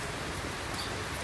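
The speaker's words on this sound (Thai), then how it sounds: "ถ้าได้ยินเสียงฝนก็ขออภัยด้วยนะ ฝนมาแล้วแรงเลยทีนี้" Heavy rain hisses evenly and close during an outing of pet frogs playing in the downpour, a short unbroken wash with no one speaking.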